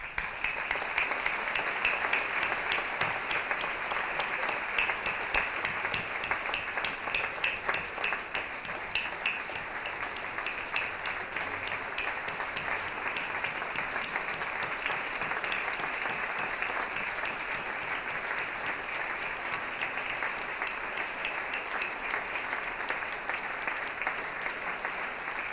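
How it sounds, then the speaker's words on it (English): Audience at a university founders day gala applauding honorees, steady sustained clapping from a large crowd lasting the whole span at an even level. "So let us give them applause"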